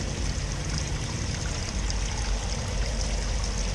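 Coolant gushes steadily out of the thermostat housing of a Corrado VR6 during a system flush, a continuous loud splashing pour with no breaks and no voices.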